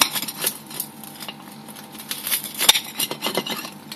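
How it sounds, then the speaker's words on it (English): Knife and fork scraping and clinking on a plate while cutting up a Chicago Town sub, light irregular taps and scrapes close by, fairly quiet with no talking. "I'll give this a little bit of a chop up."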